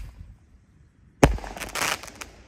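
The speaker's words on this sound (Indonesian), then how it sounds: "10 shot berhasil menyala." A single firework shot, the last of ten, cracks sharply after a second of quiet, followed by a crackling, fizzing burst that trails off.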